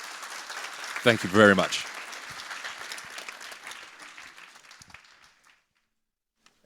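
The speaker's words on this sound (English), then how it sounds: "can we give a big round of applause for everyone?" Audience applause for panelists at a 2022 conference session, a crowd clapping under a brief thank-you from a speaker, swelling then fading out over about five seconds before silence.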